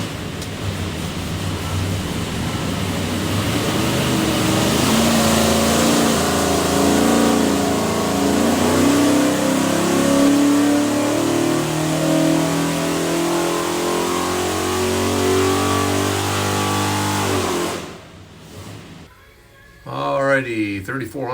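A 427ci Ford FE V8 with a custom-grind solid roller cam and rear sump oil pan runs on a dyno, its loud engine roar climbing steadily for about eighteen seconds before abruptly cutting off, followed by a voice talking.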